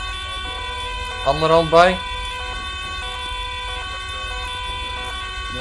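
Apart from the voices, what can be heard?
police sirens in a video game roleplay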